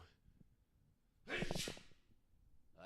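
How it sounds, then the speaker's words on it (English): A single short, breathy sneeze bursts out near the mic, loud against a quiet room with faint background murmur. "And I sneezed"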